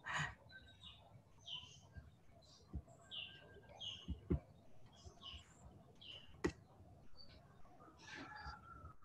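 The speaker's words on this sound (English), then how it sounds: "I heard a bird around you." Scattered bird calls and chirps, some cooing, mixed with a few sharp knocks and clicks, moderately distant in a quiet outdoor setting.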